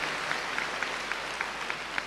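Applause from an audience at a Thai comedy show: a faint, steady patter of clapping that runs evenly throughout, with no voices over it.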